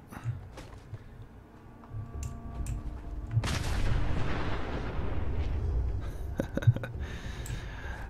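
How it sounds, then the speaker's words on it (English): A car explodes in the video game Fallout 4, a heavy explosion with a deep rumbling boom that rolls on for several seconds, preceded and followed by sharp bursts and crackles. "Nothing like a good nuclear explosion to get the day going"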